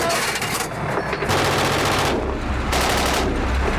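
Sustained gunfire from a recruit gunner's weapon firing at targets with the Queen's Cavalry, loud and continuous bursts with brief lulls, no voices.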